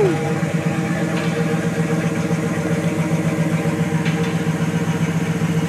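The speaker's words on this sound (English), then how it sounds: "Jeremy, please start this engine for me" A 1999 Ram 1500's 5.2 liter truck engine idles loudly and steadily nearby, a deep throbbing rumble with a constant beat throughout.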